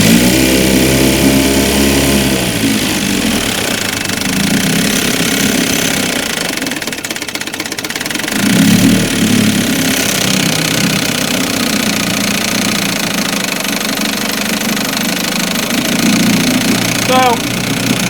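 An older 5 HP Evinrude outboard motor, freshly serviced with a new fuel filter, plug, points and condenser and a cleaned carburetor, runs steadily throughout with a knocking, mid-pitched drone, loud and close, with talking heard over it.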